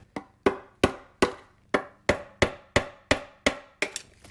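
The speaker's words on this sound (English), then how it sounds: "Grab a little screwdriver and a little hammy." A small hammer taps a screwdriver to pop parts out of a Ford Flex 3.5 EcoBoost valve cover, giving about eleven sharp, evenly spaced metallic knocks, close and clear with no talk.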